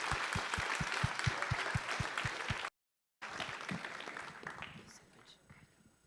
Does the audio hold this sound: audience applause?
yes